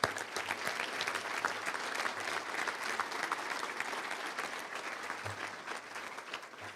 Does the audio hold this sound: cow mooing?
no